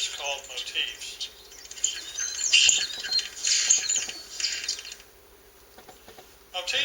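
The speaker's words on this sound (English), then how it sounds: "Starling songs are divided into discrete units called motifs." Starling song made of discrete motifs, a run of bright squawks, chirps and whistles in quick irregular bursts, fairly close, pausing briefly before a final burst.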